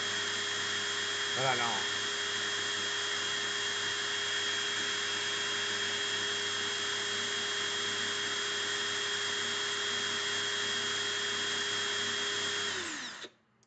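A power drill runs steadily and loudly for about thirteen seconds, a constant whine with a brief spoken line near the start, before it winds down and stops at the end.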